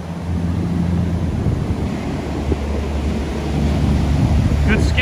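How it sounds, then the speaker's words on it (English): Ocean surf at Kealia Beach on Kauai, a steady rushing wash of waves with strong wind buffeting the microphone throughout, fairly loud and continuous with no clear individual breaks. "Good skimboarding waves."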